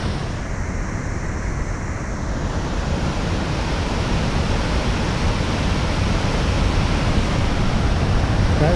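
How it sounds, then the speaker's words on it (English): A waterfall along the John Muir Trail roars as a steady, broadband rush of falling water, constant and fairly loud, with some wind on the microphone. "Check out that waterfall."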